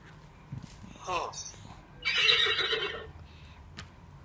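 A horse neighs, a shrill, wavering whinny that rises loud in the middle of the clip amid a faint background voice and low room noise.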